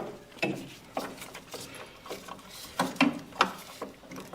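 Hands work a hydraulic hose loose from its fitting on a bicycle disc brake, giving close, intermittent mechanical clicks and small ratcheting ticks with soft handling noise between them.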